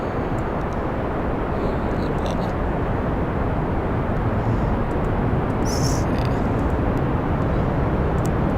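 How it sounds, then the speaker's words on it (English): A rocket lifts off in Kerbal Space Program, giving a loud, steady, broadband engine roar that holds without a break from start to finish. "It's gonna throttle up, almost to max, and in 3, 2, 1, lift off."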